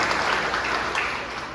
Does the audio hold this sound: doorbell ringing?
no